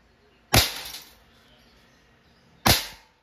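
Two loud, sharp cracks from an Umarex airsoft Glock 17 Gen 5 pistol, fired about two seconds apart at close range, each with a short fading tail and no talk.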